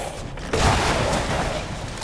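Grenade launcher blasts in the video game Resident Evil Village: a dense, rumbling burst that jumps up about half a second in and holds as a broad, continuous roar of explosions to the end, with no talk.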